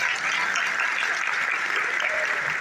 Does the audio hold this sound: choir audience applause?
yes